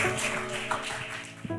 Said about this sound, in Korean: 박현웅 형제 앞으로 나오실 때 박수로 우리 환영하겠습니다.